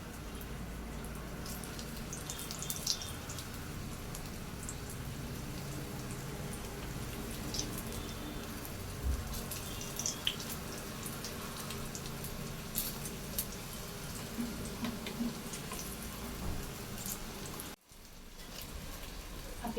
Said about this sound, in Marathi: असं मंद आचेवर शॅलो फ्राय करायचं आहे।